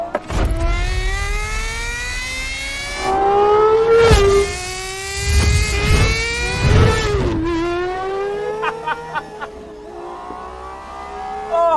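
GMA T.50 supercar driving on a mountain road in the Pyrenees, its engine loud and close with rising, falling revs and gear changes, a sustained high-pitched howl that climbs and drops across the run, with no talking.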